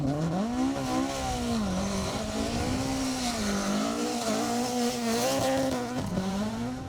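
A Ford Escort rally car racing on a tarmac stage in West Cork, its engine droning steadily at high revs with rising and falling pitch as it passes, loud and continuous with no talk.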